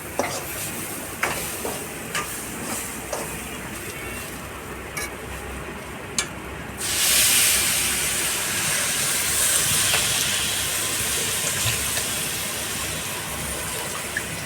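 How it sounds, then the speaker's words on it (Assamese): Water is poured into a hot pan of dal frying with baking soda, and after several light clinks of stirring a sudden loud, close steam hiss bursts out and keeps roaring steadily to the end. "তাৰপিছত এতিয়া পানী দিম।"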